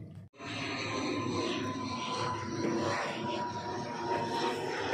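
An airplane flying from Kendari to Baubau in Southeast Sulawesi, its engine a steady, continuous drone heard from inside the cabin, starting abruptly and holding at a constant level throughout.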